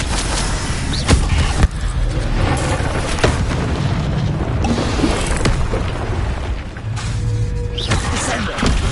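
Repeated booming spell blasts from the Confringo fire curse in Hogwarts Legacy, dense and loud over a constant rumbling game soundscape with several sharp hits spread through.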